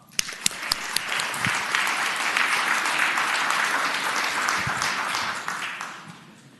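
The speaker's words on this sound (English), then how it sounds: "Let's give him an applause" Applause fills the Virginia Senate chamber, a sustained rush of many hands clapping that starts with a few sharp claps, holds steady, then tapers off near the end.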